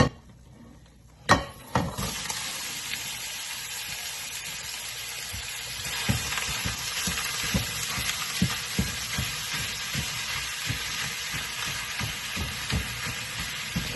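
Food frying in a hot pan, a steady broadband sizzle rising after a sharp clatter as it goes in, with intermittent pops and spits continuing throughout, close and fairly loud with no talk.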